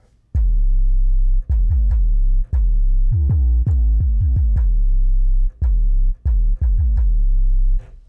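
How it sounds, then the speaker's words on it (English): An 808 sub bass preset from the Bass Master VST plugin plays a deep, booming bass line of sustained notes with gliding pitch drops. The notes come loud and close in a rhythmic pattern with short gaps between them, and no one talks. "Let's head over to the sub section. Go to the 808 sub."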